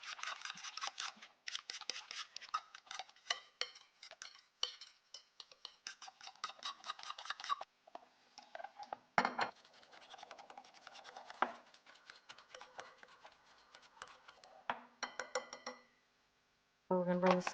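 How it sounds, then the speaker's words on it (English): A whisk stirs einkorn sourdough levain in a bowl, making quick, rhythmic scratchy clinks and scrapes in irregular close bursts, with short pauses between and a brief silence near the end. "then you'll take your whisk and just whisk it up a bit"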